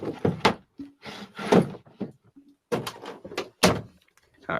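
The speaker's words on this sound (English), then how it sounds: "you got through a doggy door?" A person squeezing through a flap-style dog door, with repeated thumps, knocks and flap clatter in irregular bursts, close and fairly loud, broken by short pauses.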